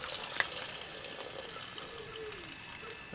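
Water dumping out through the waste valve of an Alucab camper conversion on a Land Rover Defender, a steady close rushing, splashing flow with no voices.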